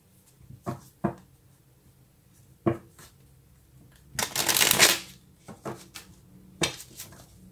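Tarot cards are shuffled close up in several short riffling bursts, with a longer, louder riffle in the middle, separated by quiet pauses and no talking.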